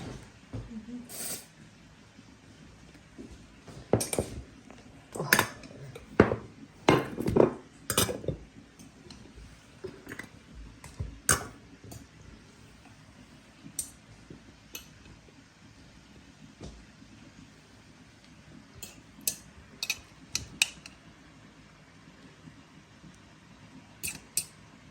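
A knife slices homegrown cucumbers in a home kitchen during festive Uraza Bayram cooking in Chechnya, giving irregular sharp chopping taps in close bursts, busiest early on and then sparser and softer.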